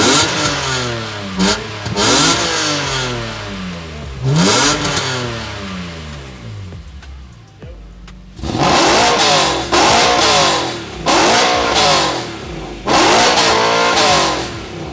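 BMW E92 engines rev loudly and up close in repeated bursts, each throttle blip climbing and falling away, with a short lull before a rapid series of sharp revs.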